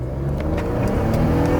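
A 2020 Ford F-150 XLT pickup with the 2.7 EcoBoost engine, in sport mode, accelerating hard: a loud, steady engine roar with rising intake and turbo whir, heard from inside the cab with no talking.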